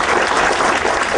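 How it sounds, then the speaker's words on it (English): Town hall audience applauding state employees, a loud, dense wash of clapping that holds steady for the whole moment. "How about a round of applause for state employees?"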